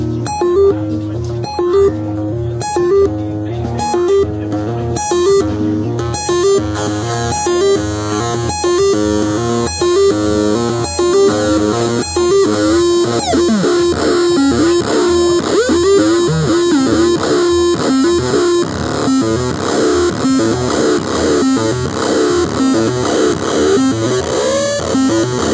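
Cosmotronic synthesizer modules pump out a dense, gritty techno pattern with drive distortion added, a loud rhythmic pulse that grows harsher and more saturated throughout, with a voice speaking briefly over it.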